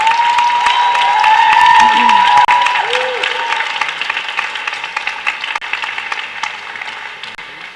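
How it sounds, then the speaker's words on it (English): At a student climate activism event, an audience claps and cheers as speakers return to the stage, with a voice speaking over the start before the applause thins out. "big round of applause."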